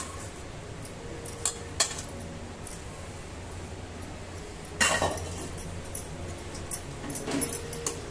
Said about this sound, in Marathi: असं 2 चमच घ्यायचं आणि असं संपूर्ण भाजी याच्यामध्ये मिक्स झाली पाहिजे